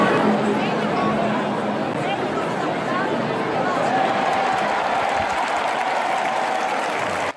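A large outdoor crowd applauds at the Easter Madonna Vasa Vasa festival in Modica, loud continuous clapping mixed with cheering and crowd chatter, with voices in the throng throughout.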